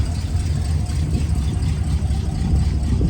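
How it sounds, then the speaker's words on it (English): A 1968 Oldsmobile Delta 88 Holiday Coupe's big V8 engine idles through dual exhaust with a steady, deep, burbling rumble, close by and continuous. "Nice sounding dual exhaust back here."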